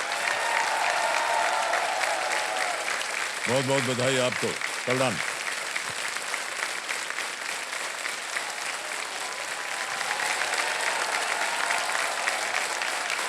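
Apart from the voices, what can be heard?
studio audience applause on a TV quiz show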